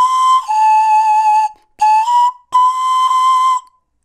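A pan flute plays clear, breathy sustained notes in three phrases with short pauses between them, the tone bright and steady at moderate loudness, played alone.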